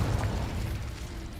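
A short fiery blast from the Confringo spell in Hogwarts Legacy, a dense rumbling burst that swells and decays over about a second with no voices.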